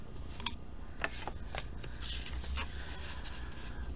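Scissors snip a small bit off a handmade paper tag, a few crisp close cuts and rustling paper over a steady low background hum, with no talking.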